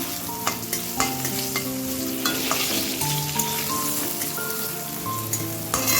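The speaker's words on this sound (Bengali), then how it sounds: "দেখো আলু আর বেগুনটা ভাজি হচ্ছে" Potato and eggplant pieces fry in oil in a pan, giving a dense, steady sizzle close by with scattered clinks and scrapes of stirring throughout.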